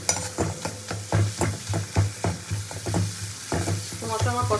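Spice paste for a prawn curry sizzles in a hot pan while a spoon stirs it in repeated scraping strokes, a close and steady frying hiss with rhythmic clatter and no speech.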